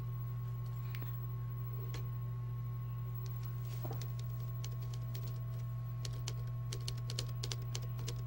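Steady keyboard typing from a character in the video game Forget Me Not: Palette, soft scattered clicks that grow busier and louder near the end over a constant low electronic hum.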